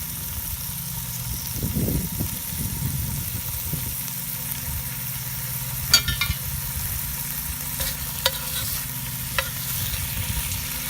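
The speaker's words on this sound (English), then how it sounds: "Here, can you hear the sizzle" Bacon fries in a Dutch oven with a constant broadband sizzle and a few brief clicks and scrapes, while a low engine hum from a lawn mower runs in the background.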